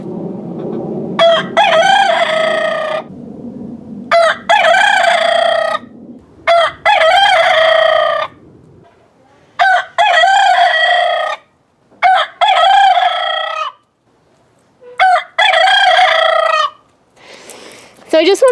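A rooster crows repeatedly outdoors, with about seven loud, drawn-out calls separated by short silences and no voices.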